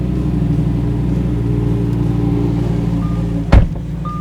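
Lamborghini Huracan Performante engine running with a deep, steady rumble close by, then a sharp, loud burst near the end, with no talking.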